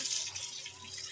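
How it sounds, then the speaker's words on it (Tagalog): Water runs steadily from a tap into a home fish aquarium being refilled, a continuous close splashing hiss with no voices. "nagpapaagas na ako ng tubig dyan at hinihintay ko mapuno dyan"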